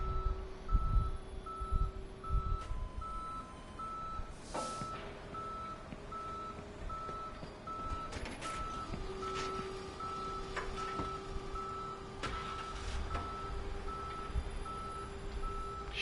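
A tow truck hauling a car in the Police Simulator video game, with steady reversing beeps over a low engine rumble and occasional clanks, fairly faint and without talk.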